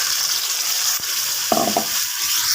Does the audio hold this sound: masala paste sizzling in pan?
yes